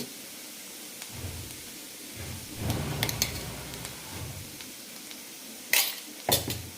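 Carrots with spice powder are stirred in a frying pan, giving a faint sizzle under soft scraping strokes, then two sharp clinks of a utensil on the pan near the end.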